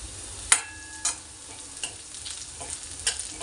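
Green chillies and onion stir-frying in a pan with asafoetida, a soft continuous sizzle broken by several sharp utensil clinks and scrapes spaced about half a second apart.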